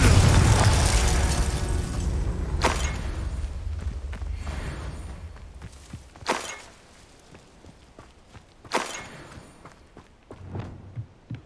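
Confringo fire-spell blasts in the Hogwarts Legacy video game, with a loud booming burst at the start that fades, followed by several sharp impact pops and thuds spaced over the next seconds, with no talk.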